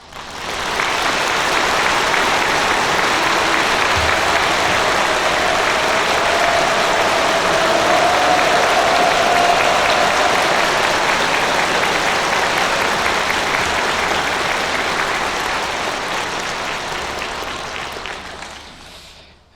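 Loud, sustained applause from a church congregation at a Korean installation thanksgiving service for a pastor, swelling quickly and holding steady for most of the stretch before tapering off near the end.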